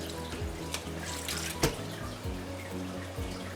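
Water running from a tap into a pot of rice for cooking, a steady stream with a brief louder gush midway, close and alone without talk.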